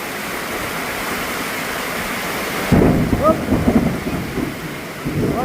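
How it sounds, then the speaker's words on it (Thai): Steady heavy rain roars throughout, with a deeper rumbling surge partway through like thunder rolling in a storm; no talking. "อ๋อพายุพายุ"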